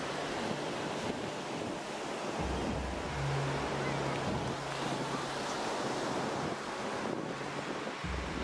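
Ocean waves wash steadily onto the beach at Kuta, Bali, a continuous broadband surf roar with gusty wind noise on the microphone and a faint low boat-like hum partway through.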